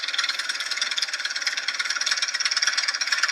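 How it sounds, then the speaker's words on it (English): The metal parts of a horse-drawn McCormick harvesting machine clank and rattle steadily and busily as it cuts a crop. The sound is a continuous, fairly close, high-pitched mechanical chatter with no voices. "That noise you hear is not a motor, it's just the clanking parts of the machine as it works."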